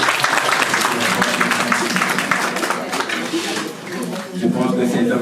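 An amphitheatre audience at a business school seminar applauds, a dense, steady patter of many hands that dips briefly and swells again, with a voice talking over it.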